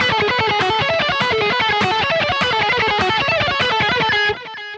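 Overdriven electric guitar rips through a fast repeating phrase in sextuplets, tight, bright, evenly articulated notes in quick bursts that stop abruptly near the end, with no voices.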